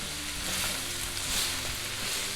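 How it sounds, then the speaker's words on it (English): Sliced baby portabella mushrooms sautéing in a hot pan make a dense, steady sizzle with slight swells of stirring, close and fairly loud, with no talking. "I'm going to continue to saute this until these mushrooms start to sweat"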